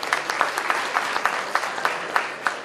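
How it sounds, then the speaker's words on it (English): Applause from an audience at a community night hosted by a press council in Edmonton. It is brief and moderately loud, with distinct individual claps standing out in a loose rhythm. "Give yourselves a round of applause,"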